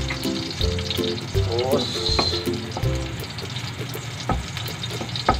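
Garlic and onion sauté in a pan for barbecue back ribs, a continuous close sizzle with occasional stirring knocks, while a voice talks over it.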